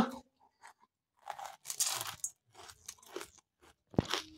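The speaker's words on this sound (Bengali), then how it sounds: "তো তারপরে আবার একটু মুড়ি নিয়ে নিলাম খাওয়ার জন্য।" Puffed rice (muri) eaten with tea is crunched close up in several bursts of loud, crisp chewing separated by short quiet pauses.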